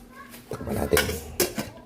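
A metal lid clatters onto a cooking pot of Filipino sinigang in a home kitchen, with two sharp clanks and some lighter rattling nearby.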